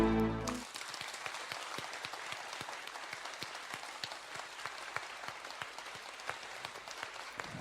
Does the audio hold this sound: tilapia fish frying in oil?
no